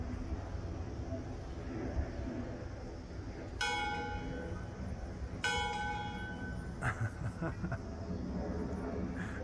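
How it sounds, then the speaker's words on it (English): A steam locomotive's bell, rung by pulling its rope, clangs twice with bright ringing tones that linger and fade, followed by a few softer clanks, over low outdoor rumble at a railway site in Bensenville, Illinois. "Here's the rope that rings the bell."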